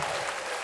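A short burst of canned crowd cheering and applause from a sound-effect button, loud and dense throughout, with no talking over it.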